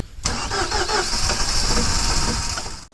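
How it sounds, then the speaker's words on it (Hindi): Car engine starting in winter on a snowy mountain road trip, with a sharp crank catching into a steady loud running idle that cuts off abruptly at the end. "अबे ये गाड़ी स्टार्ट ही नहीं हो रही है यार"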